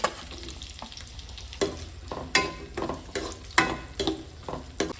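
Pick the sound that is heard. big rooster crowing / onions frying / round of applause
onions frying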